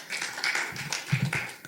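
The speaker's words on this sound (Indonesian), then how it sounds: "Tepuk tangan untuk Tuhan Yesus." A church congregation clapping hands after a sermon, a dense patter of claps that rises and falls in uneven bursts, moderately loud and without voices.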